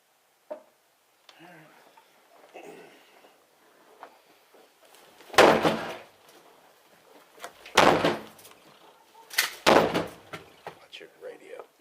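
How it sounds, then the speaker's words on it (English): Riverside police officers kick in an apartment door during a fraud arrest, three heavy booming impacts spaced a couple of seconds apart, loud and close, with low voices and shuffling between blows. "We're gonna kick your door open."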